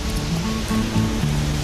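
Ireland's highest waterfall, a steady broadband rush of falling water heard continuously at close range, with no talk over it.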